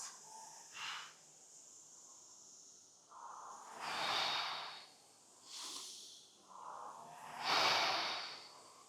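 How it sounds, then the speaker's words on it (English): Close, audible breaths during a light rowing machine warm-up come in slow, regular cycles of inhale and exhale, each lasting about a second, with quiet gaps between. "let's lock into our breathing pattern, even though we are going really light in the warm-up"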